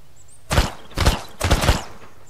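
Gunfire in the zombie survival video game Mist Survival: three short bursts of loud, close shots evenly spaced about half a second apart, with a quiet gap before the first.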